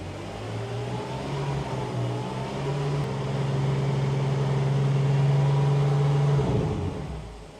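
A BMW M6 F12 engine idles, then is held at a steady 2500 RPM, a sustained even drone with a constant low hum that settles back near the end, close and alone without talk.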